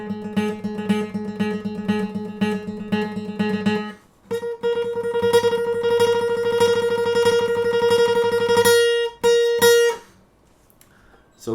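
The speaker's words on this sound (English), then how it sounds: "the other rest stroke is the upstroke rest stroke like this." Guitar notes played with upstroke rest strokes, repeated plucked strokes close and clear, sustaining in two phrases with a brief pause between, no talking.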